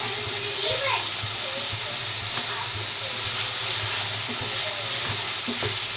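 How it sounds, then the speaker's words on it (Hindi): Masala paste sizzles and fries steadily in a pan while cooking beef aloo kofta, a dense, continuous crackling hiss close to the microphone with occasional stirring scrapes and faint voices in the background. "ये देखें माशाल्लाह से हमारा मसाला भुन गया है"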